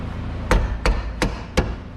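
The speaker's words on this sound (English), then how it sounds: "Use a plastic hammer." Four sharp, evenly spaced knocks from a plastic hammer striking a front brake caliper bolt area on a 2016 Nissan Pathfinder, close up, with no talking.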